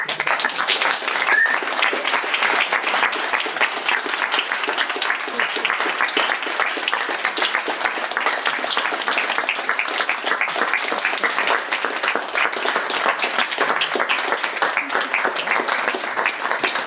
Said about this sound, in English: If we have a round of applause